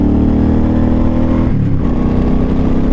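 A Suzuki Boulevard C50 cruiser motorcycle accelerating, its loud engine droning steadily before a brief dip and shift around the middle, as if changing gear, then pulling on. The engine noise is constant and close, with no speech.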